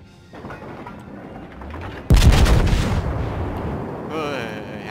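A heavy naval gun salvo from a warship in World of Warships, a sudden loud booming blast after a quieter lead-in, followed by a long rumbling decay with a faint voice underneath.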